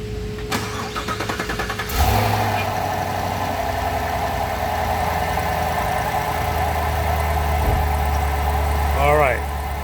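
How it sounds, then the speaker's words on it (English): A V8 car engine cranks and catches at about two seconds, then settles into a steady, rumbling idle, with a brief rev near the end. "So now I'm going to start the car."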